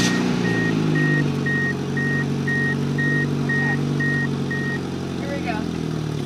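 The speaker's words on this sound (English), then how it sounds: "I've started Jenny's car, but..." A car engine runs at a steady idle while a high reversing beep repeats at an even pace for about five seconds, then stops. People talk close by over the engine and beeps.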